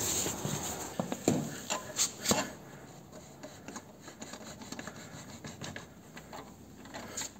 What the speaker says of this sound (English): he'll wiggle that axle out